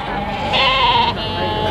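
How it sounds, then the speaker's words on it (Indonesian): At a livestock market in Sapuran, a sheep being sheared gives one clear, wavering bleat in the middle, heard close over steady market background noise. "Itu beliaunya lagi nyukur domba."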